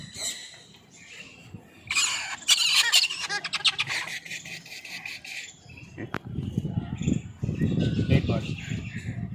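Parrot working to crack a nut, with a burst of sharp squawks and rapid clicking cracks early on, then louder low rustling and scraping, close by.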